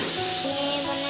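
Chopped onions with turmeric sizzle in a hot pan, a loud bright hiss at first that drops to a softer steady frying crackle after a moment, close up with no talking.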